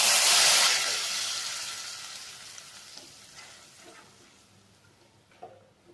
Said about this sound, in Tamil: நல்லா கொதி வந்துருச்சு